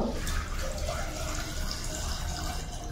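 Water poured into a clay cooking pot of dalma with small tomatoes, a steady close-up watery rush that keeps going with little variation throughout.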